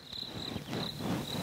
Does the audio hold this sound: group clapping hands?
no